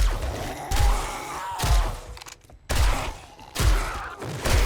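Armor-piercing shotgun slugs fired in the game 7 Days to Die, four heavy booming shots spaced about a second apart, each with a deep thud and a short decaying tail, close and loud.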